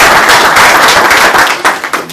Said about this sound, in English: I think we can all give them a round of applause